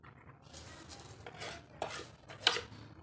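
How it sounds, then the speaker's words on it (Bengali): Sugar, salt and baking powder being mixed in a bowl for semolina dhokla, a few quiet scraping and clinking strokes of a spoon against the bowl, with a brief sharper clink near the end; no talking. "চিনি আর লবণ বেকিং পাউডারটা ভালো করে মিক্সড করে নেব।"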